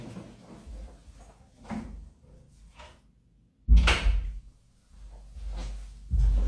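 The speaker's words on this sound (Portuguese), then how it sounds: "deixa eu fechar a porta" Door being closed indoors, a single sharp thump with a brief rattle standing out from quiet room noise and softer handling sounds before and after.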